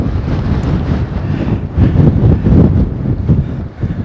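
Wind buffets the microphone on the non-tidal River Trent aboard a boat heading downstream, a loud, continuous low rumble that swells in gusts, with no one speaking.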